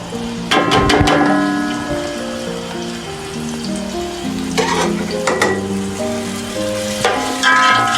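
Onions and curry leaves fry in oil for beef yakhni pulao, a steady close sizzle with sharp scraping stirs near the start, middle and end, and no talking.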